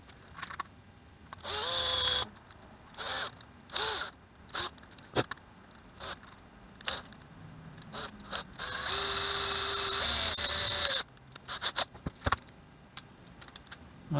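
A power drill whirs in short bursts of varying length into a car phone stand, hitting plastic, separated by pauses with light clicks and handling noises.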